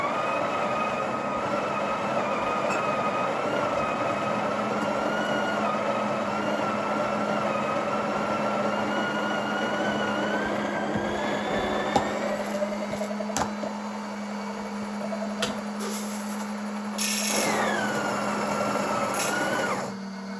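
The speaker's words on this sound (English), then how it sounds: "Let's make a coffee with grind size 18." Breville Oracle Touch BES990 espresso machine grinding coffee beans at grind size 18: a steady, loud mechanical whine with a droning hum that runs continuously, shifting pitch near the end as the grind finishes, with no talk.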